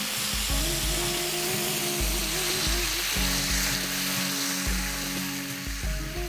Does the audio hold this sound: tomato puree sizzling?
yes